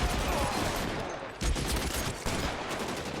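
Video game gunfire, a dense, noisy barrage of shots with a few sharper blasts standing out, steady and moderately loud throughout, with no voice heard over it.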